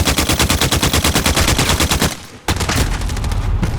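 The RAAL MG machine gun in Call of Duty Modern Warfare fires in a loud, rapid, continuous burst, stops for a split second, then fires again just as densely, with no voices.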